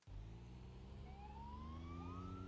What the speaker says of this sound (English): as they all activate their sirens one by one